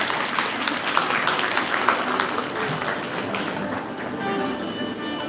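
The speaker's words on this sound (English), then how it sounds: "A big hand of applause from the audience." Audience applause at a college of education ceremony, a dense, steady patter of many hands clapping near the stage, holding fairly loud across the whole stretch and thinning a little toward the end.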